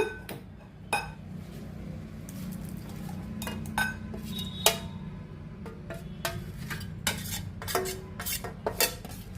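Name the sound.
mixing the cooked chicken kebab in a bowl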